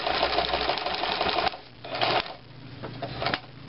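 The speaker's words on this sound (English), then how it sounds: "Press your foot down, continue sewing." Sewing machine stitching the fabric top of a cushion cover onto its boxing strip, whirring fast and close in short runs separated by brief pauses.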